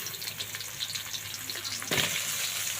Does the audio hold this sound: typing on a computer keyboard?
no